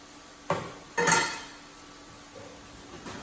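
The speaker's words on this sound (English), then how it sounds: "you do want to be careful when you're slicing avocados. They're going to just be just cut on the diagonal here." A knife cuts diagonal slices through an avocado on a cutting board, giving two sharp close knocks of the blade meeting the board and then softer light taps in a quiet room.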